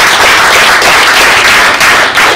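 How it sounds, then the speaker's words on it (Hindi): An audience at a Hindi poetry gathering claps for donors: a dense, loud, steady wash of many hands throughout, with no talking. "एक बार उन सभी दानियों के लिए तालियां बजाती हूँ।"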